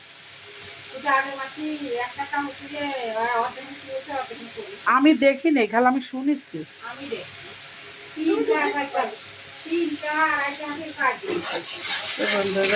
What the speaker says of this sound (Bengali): পেঁয়াজ পেস্ট আর কাঁচামরিচ পেস্ট দিয়ে দিচ্ছি